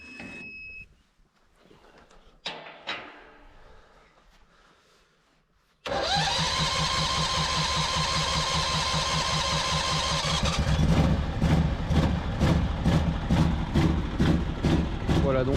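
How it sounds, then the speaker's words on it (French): A Frostguard frost-protection machine used against spring frosts: after a short warning beep and some quiet talk, its gas engine starts abruptly and runs steadily nearby, its pitch rising slightly as it settles into a rhythmic throb. "donc là le moteur au gaz a démarré."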